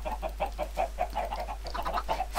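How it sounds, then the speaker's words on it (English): Chickens in a video game cluck in a steady, repeated stream of short notes, several birds overlapping at close range over a constant low hum, with no voices. "Suffocated by chickens."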